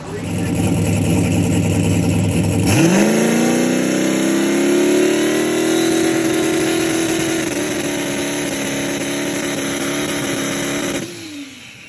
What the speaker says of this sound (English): I'll test my two-step, make sure everything's good there